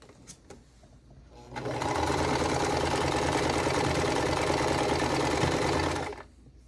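A sewing machine stitches quilt block pieces together in one continuous, close whirring run of about four and a half seconds, with faint handling noises before it starts.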